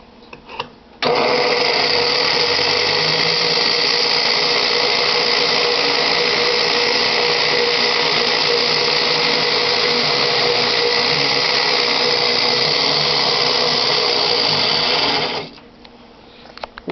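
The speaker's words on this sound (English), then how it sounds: "he'll turn off the energy and turn on the motor and start the spinning process." A centrifugal casting machine's motor spins molten gold or silver into a graphite mould, starting abruptly into a loud, steady whine that runs for about fourteen seconds before spinning down, with no talk.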